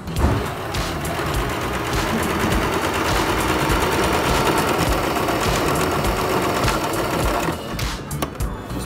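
A sewing machine stitching fabric for a school pencil case, a steady close rapid mechanical whirr running for several seconds before slowing and stopping near the end.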